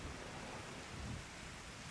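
Rain while flying in the video game Final Fantasy XIV, a soft, even wash of rainfall noise with a low rumble beneath it, faint and steady with no voices.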